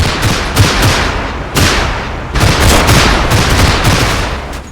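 Jeep-mounted machine gun fire in the Combat Mission World War II street battle game, loud sustained bursts of rapid shots with heavy booming echoes, continuous and alone without speech.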